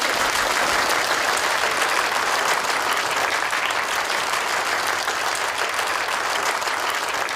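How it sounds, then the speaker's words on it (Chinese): A banquet hall crowd gives sustained, dense applause to welcome the group president at a company's 20th-anniversary gala reception. The clapping stays steady and full without a break. "掌声欢迎顾总"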